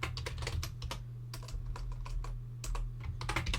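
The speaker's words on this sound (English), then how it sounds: "Press and hold Control on the keyboard to deselect." Computer keyboard keys pressed in irregular quick bursts, close and clear over a low steady hum, with no voices.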